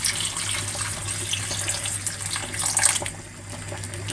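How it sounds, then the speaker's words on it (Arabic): Water poured from a tap onto sliced onions seasoned with salt, vinegar and sumac: a steady, soft running-water splash lasting a few seconds, close by and without talk. "وانزل عليهم بحبة مية"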